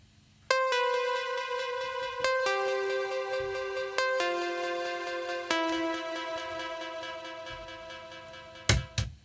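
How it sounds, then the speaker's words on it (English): An old Zebra synth preset plays sustained, bright chord tones that change every couple of seconds, each change marked by a sharp attack, with a faint low murmur underneath and a short percussive burst near the end. "This is a very old sound from Zebra, and it sounds like this."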